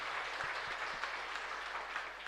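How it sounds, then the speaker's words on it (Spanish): Audience at a Catholic Divine Mercy congress applauds steadily, a dense wash of clapping that holds evenly for a couple of seconds with a few sharper individual claps near the start. "Fuerte aplauso entonces."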